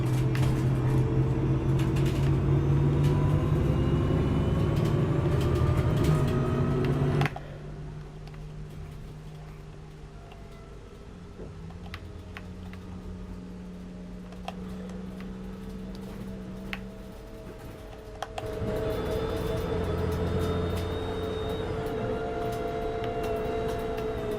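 A bus engine in a Roblox driving game hums steadily throughout, loud at first, then dropping to a quieter idle in the middle before rising again near the end, with occasional ticking mechanical clicks.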